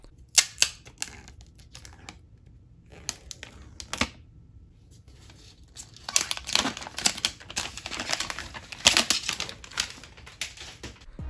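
The plastic tab on the back of an iPhone 12 Pro Max box being pulled back: a run of close crinkly plastic tears and clicky snaps, sparse and sharp at first, then denser crackling toward the end.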